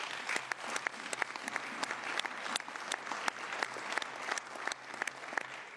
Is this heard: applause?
yes